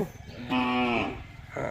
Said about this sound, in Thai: เป็นวัวฝูงนะครับ ที่ตัดฝูงมา